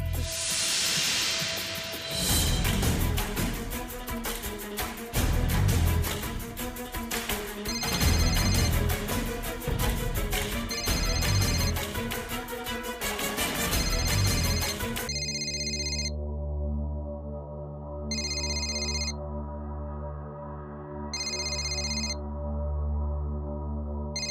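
An outgoing phone call rings out: a repeating electronic ringback tone in evenly spaced bursts, first over background music and hiss, then alone with clear pauses between rings.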